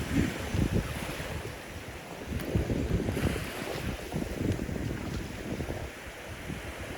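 Waves wash up on Sanibel beach in Florida, a continuous close surf rush with repeated swells and heavy wind buffeting on the microphone, no voices.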